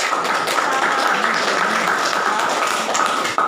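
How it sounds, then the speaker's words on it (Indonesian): Classroom students clapping at a teacher's prompt during an Indonesian lesson, a steady dense patter held at even loudness for a few seconds before stopping abruptly. "Tepuk tangan buat"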